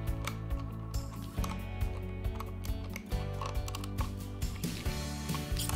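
Phillips screwdriver tightening two screws on the base of a Zeiss Stemi 508 stereo microscope, with close, repeated clicking and ratcheting metallic turns in short bursts.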